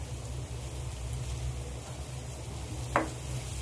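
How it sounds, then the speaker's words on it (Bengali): Vegetables seasoned with salt and pepper are stirred in a frying pan while fried rice is made, a steady low sizzle with a faint continuous rustle and one brief scrape near the end, no talking. "নুন আর গোলমরিচ গুঁড়ো দিয়ে আমি ভেজিটেবলগুলো আমি 2 মিনিটের মতো ভালো করে নাড়াচাড়া করে নেব"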